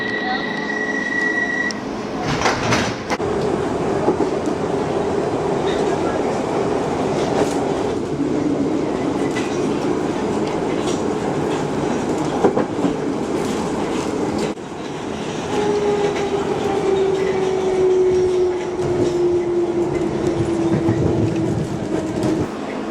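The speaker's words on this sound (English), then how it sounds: "This is a Bakerloo line train to Elephant and Castle." A London Underground Bakerloo line train runs steadily with a loud continuous roar, rail clatter and rising wheel squeal, plus a few sharp clanks, with an announcement voice over it.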